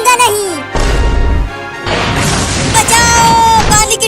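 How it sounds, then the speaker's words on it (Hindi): A cartoon water tank breaks and comes crashing down in a loud, boomy smash with rumbling debris and a splash of noise, while a cartoon voice cries out over it. "पानी की टंकी टूट गया"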